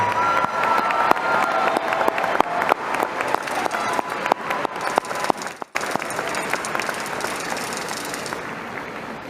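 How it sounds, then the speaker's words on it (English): Audience applause fills a high school graduation ceremony for the Eastmont class of 2025, steady dense clapping with some cheering that runs the whole span, dipping briefly near the middle before continuing. "Let's give them a huge round of applause."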